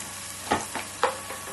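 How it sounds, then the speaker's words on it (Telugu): Ginger garlic paste frying in a pan while chicken liver is being cooked, a constant close sizzle broken by a couple of sharper stirring scrapes, with no voices. "కొంచెం వెల్లుల్లి పేస్ట్ వేసుకున్నాం, అల్లం వెల్లుల్లి పేస్ట్. దీన్ని కూడా పచ్చివాసన పోయేంత వరకు వేయించేసుకొని"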